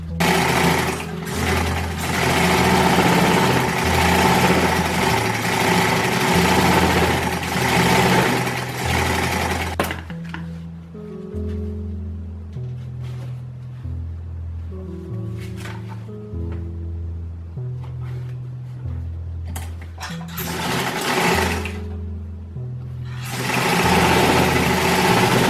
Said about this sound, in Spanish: cosiendo a 1 centímetro